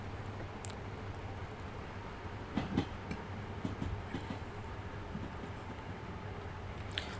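Fast local train running at speed in Train Sim World 4: a low, steady rolling rumble, fairly quiet, with a few faint clanks and rattles scattered through it.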